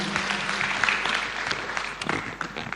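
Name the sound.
audience applause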